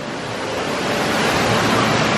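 Broad, steady rushing of waterfalls at Universal Orlando, loud and continuous close to the microphone with no voices over it.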